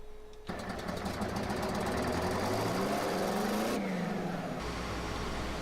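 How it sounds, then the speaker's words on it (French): A video game car engine turns over and starts, settling into a steady idle hum with a slight rise and fall in pitch, loud and close. "je vais vous laisser écouter le bruit quand il démarre"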